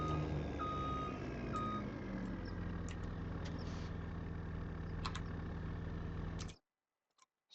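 A Kenworth truck in Farming Simulator 25 reverses with steady, repeating backup beeps over a low engine drone, loud and close, cutting off abruptly near the end.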